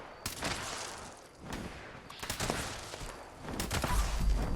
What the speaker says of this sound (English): it looks like we've got something shooting at our Scorchbeast